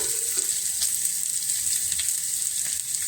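Onion frying in hot oil alongside chana dal and urad dal gives a steady, bright sizzle with a constant hiss and occasional soft stirring scrapes, close and even.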